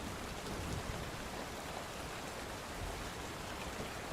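Rain falls steadily outside as a soft, even hiss with no clear breaks, faint and distant, with no voices over it.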